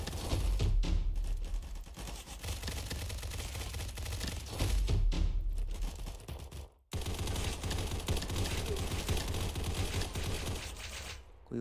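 Rapid gunfire bursts from the shotgun-armed player in the shooter game Combat Master, loud and continuous with heavy low thumps, a brief silent gap midway, then more sustained firing.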